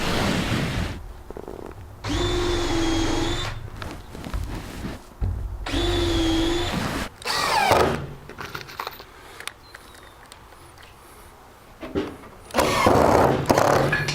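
A power drill drives 1-inch screws into alder wood planks in two distinct whirring bursts with a rising motor whine, followed by quieter scraping and handling of the wood nearby.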